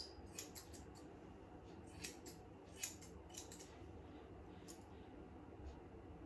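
Scissors snip a Lhasa Apso dog's face fur in front of its eyes, giving a scatter of faint, quick, crisp cuts over a quiet room.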